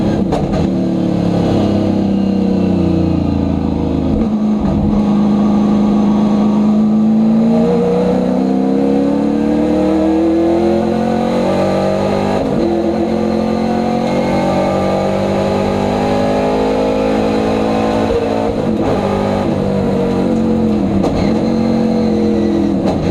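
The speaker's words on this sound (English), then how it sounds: "Louis Powell in that 2-liter Escort, still sitting up there behind him" Race cars, including a 2-liter Ford Escort, roar past on a circuit, their engines loud and continuous with rising and falling revs as they accelerate and shift, and no voices over them.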